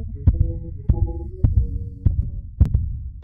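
A fast heartbeat thumps in a steady, quick rhythm, about six muffled beats close up over a low hum, each beat a soft, deep pulse.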